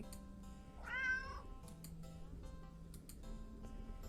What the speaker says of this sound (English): Then again, it is a cat.